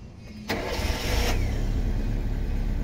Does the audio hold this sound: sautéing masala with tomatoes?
no